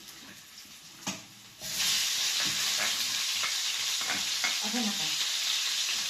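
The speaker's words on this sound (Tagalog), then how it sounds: "Ilagay na po natin itong ating sibuyas." Onions hit hot oil with garlic for chicken adobo, bursting into a loud steady sizzle after a few quiet clinks and a brief spoken question, with stirring scrapes over the frying.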